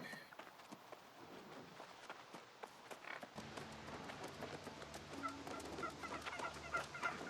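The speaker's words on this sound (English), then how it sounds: "see these stupid little turkeys" Turkeys in the MMORPG New World cluck and gobble in a busy outdoor game soundscape, their calls scattered and moderately faint over a steady ambient bed, with no talking.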